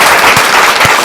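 A brief, loud burst of dense applause from a studio audience, a steady wash of clapping over about a second.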